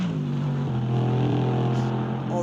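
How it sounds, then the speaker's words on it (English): Race cars at the Mobil 1 GT Challenge on the Indianapolis IMS road course passing the finish line, a steady engine drone heard at a distance beneath a commentator's voice. "all the cars crossing the line here."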